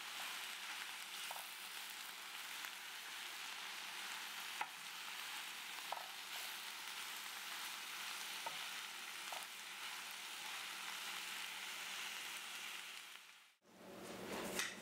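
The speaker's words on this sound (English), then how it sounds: "Keep your eye on this mixture and continue to stir it to make sure nothing burns." A frittata mixture fries and is stirred in a pan, giving a steady close sizzle with occasional soft scrapes of a utensil, broken by a brief dip near the end.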